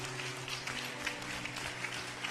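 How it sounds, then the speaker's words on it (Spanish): Church congregation applauding during a worship service, a dense continuous wash of clapping with music humming underneath, moderately loud and steady throughout. "Démosle un aplauso fuerte al Señor esta tarde."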